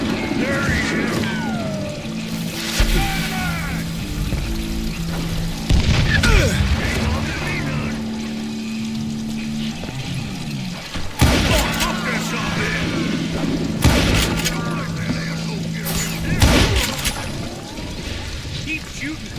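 Gunfire in the Western shooter Call of Juarez Gunslinger: repeated booming shots and bursts break through a busy mix of game sound and steady background music, with someone talking over the action.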